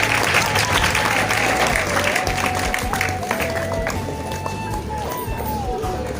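Steady applause from a student audience at a B.Ed. farewell function honouring participants on stage, dense and continuous with a loud crowd wash and a tonal sound gliding through it.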